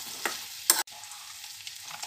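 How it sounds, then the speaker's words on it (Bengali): Beans go into pumpkin frying in a pan, with a soft sizzle and quick stirring scrapes, one sharp louder burst midway, then quieter frying. "কুমড়োগুলো ভাজা হয়ে গেছে, এবার এর মধ্যে বিনসগুলো আমি দিয়ে দিলাম।"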